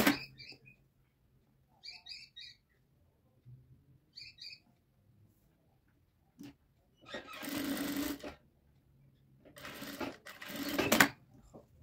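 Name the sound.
sewing machine stitching a shirt cuff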